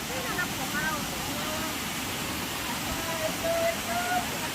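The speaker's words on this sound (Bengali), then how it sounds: "এমনভাবে প্রকৃতি সাজানো, মনে হচ্ছে আকাশ থেকে জলটা পড়ছে।" Waterfall roaring as a steady broadband rush throughout, with some faint background sounds over it.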